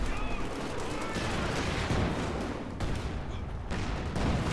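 An MG34 machine gun fires from a garrisoned building during a Company of Heroes 2 battle, a dense continuous rattle of gunfire and explosions filling the whole stretch.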